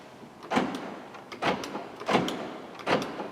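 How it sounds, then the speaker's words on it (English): Power door lock actuators on a Dodge Ram pickup cycling, giving four distinct loud mechanical clunks at roughly even intervals, close up and without talk. "Door locks function."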